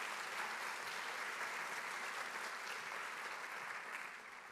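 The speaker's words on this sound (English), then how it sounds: "if we can give one more round of applause for Basque Country" A conference audience at a travel bloggers' event in Europe applauds the Basque Country, a steady wash of many hands clapping at moderate, somewhat distant level, fading slightly at the end, with no voices over it.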